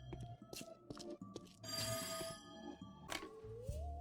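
A telephone rings inside a video game, its bell trilling in a few short bursts at moderate volume amid clattering, hoof-like game noises, with no talk over it.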